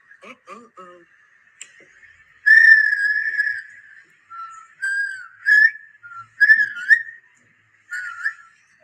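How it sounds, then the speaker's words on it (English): A person whistles in short melodic phrases, a sustained note followed by several chirpy bursts, close and clear with faint talk at the start. "So you just whistle."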